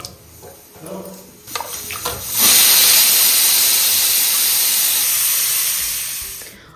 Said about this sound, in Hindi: पानी लिया है, पानी में इनको 2-3 बार अच्छे से धो लेते हैं